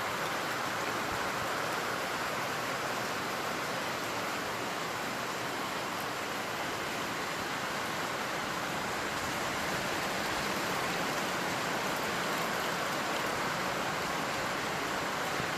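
Steady rain of the year's first shower drums on a metal sheet roof set over a molding, a dense, even hiss that stays loud and unbroken throughout with no voices.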